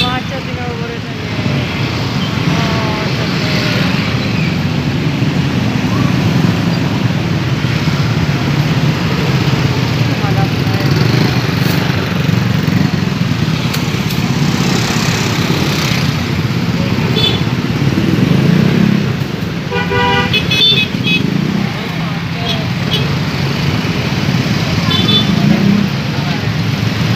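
Jammed street traffic of cars and motorcycles during the pre-sunset ngabuburit outing, forming a loud, constant roadway rumble with engines revving nearby. Passing motorbikes stand out now and then, and people talk over the noise.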